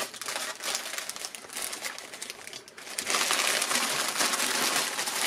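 Plastic packaging from an AliExpress parcel crinkles and rustles nearby while being opened, a steady busy crackle with no talking, growing denser and louder in the last two seconds.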